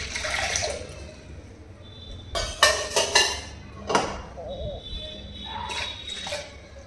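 About two and a half cups of water poured into a pot for sambar for four to five people, heard as a few splashy, gushing bursts with brief pauses and light clinks between them.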